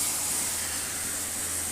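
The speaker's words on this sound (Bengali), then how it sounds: "মিক্সি ধোয়া যে জলটা ছিল সেটা আমি এখানে দিয়ে দেবো।" Water rinsed from a mixer jar hits a hot pan of mutton and spices, giving a loud, steady steamy hiss that fills the short moment close up.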